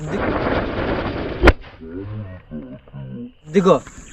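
A firecracker bomb bursts with a single sharp, loud bang, followed by excited voices shouting and reacting close by.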